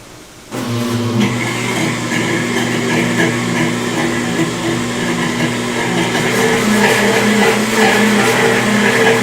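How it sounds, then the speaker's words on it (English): A blender whirs through carrot soup, starting abruptly and then holding a loud, steady motor drone with a churning edge that shifts slightly as it runs. "So we're gonna blend now."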